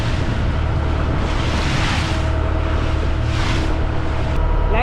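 The boat Vashishti out on the Arabian Sea off Guhagar, a loud, constant engine and wind roar with rushing water, steady for the whole stretch without voices.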